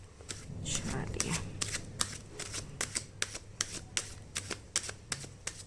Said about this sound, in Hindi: जब तक मैं shuffle करती हूँ